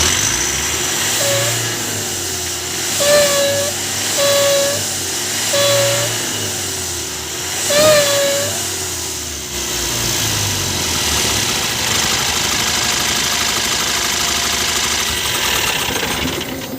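A truck engine idles steadily with a loose intake clamp, a rough mechanical drone carrying whistling tones that rise and fall through the first half before settling into a constant hiss.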